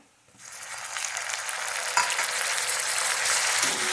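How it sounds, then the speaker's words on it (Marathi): Tomato added to browned onions in a hot pan on medium flame sets off a sudden loud, dense sizzle that swells and holds steady, close and alone. "टोमॅटो एक दोन मिनिट परतून घ्यायचं"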